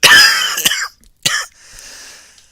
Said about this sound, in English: I could not have timed that cough any better